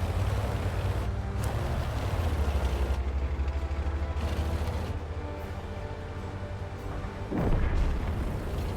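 The main gun of a VK 36.01 H German heavy tank fires in World of Tanks. A deep boom rises over a constant loud engine rumble and battle noise, with one heavier blast near the end.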